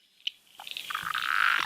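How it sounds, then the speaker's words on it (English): A Blue Mountains tree frog calls: a sharp click-like intro note followed by a rising, buzzy growl that swells over about a second, close and clear, with no talking. "that's the Blue Mountains tree frog. And that has quite a variable call, like a little kind of intro and a growl"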